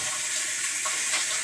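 Water softener pulling salt brine out of its brine tank, a steady close hiss of flowing water with a soft gurgling swell near the end, no voices.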